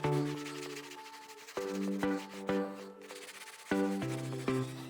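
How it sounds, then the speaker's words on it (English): Rag rubbing over drywall mud to flatten a patched wall, close repeated scuffing strokes with a steady back-and-forth rhythm. "I'm gonna rub around the area mostly, a little bit over the top to make it even flatter"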